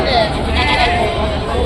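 Sheep and goats bleat at a village livestock market in Rajarampalli, amid steady crowd noise and voices.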